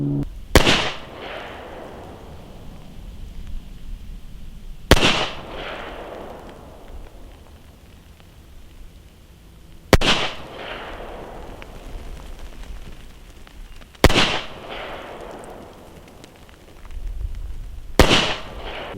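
Five sharp handgun shots at an outdoor 25-meter range during reflex optic zeroing, fired as a corrected group, evenly spaced about four to five seconds apart, each loud with a ringing decay.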